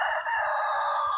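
Rooster crowing on a homestead, a single loud sustained crow close by with no other sound.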